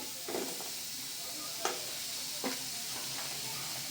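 Onion, garlic and spices frying in hot oil in a pan: a soft, steady sizzle with a few distinct stirring clacks spaced out, fairly quiet and without talk.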